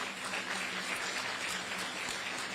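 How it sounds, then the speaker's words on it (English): Applause for an executive director at a multimodal ferry terminal groundbreaking, steady and dense throughout, heard from within the crowd without any talking. "Give him a round of applause, if you will."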